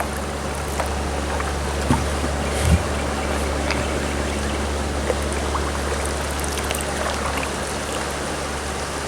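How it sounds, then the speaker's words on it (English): Fast-moving river water rushes and rips steadily around a kayak on the Wildcat, a continuous broadband wash with low rumble throughout and a few brief splashes, no talking. "But I hear some ripping, some fast-moving water."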